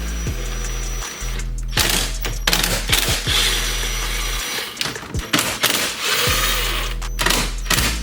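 A driver turns out T20 Torx screws holding a BMW F30 climate control panel, with close mechanical whirring and ratcheting clicks in repeated bursts, broken by short pauses and handling noises.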